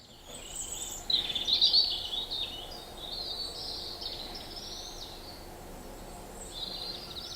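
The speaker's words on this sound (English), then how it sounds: "You can hear the bird life." Birds sing in open Welsh woodland at Cefn Amwlch, high thin warbling phrases rising and falling, strongest early then softer and intermittent, over a steady faint background hiss of insects and air.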